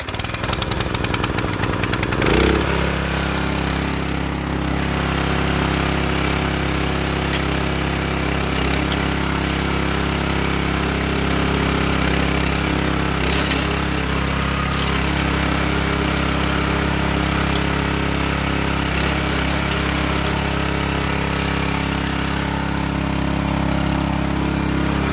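A wheelbarrow tiller's small engine runs steadily after a cold start on choke: a loud, continuous close-up drone throughout, with no talk.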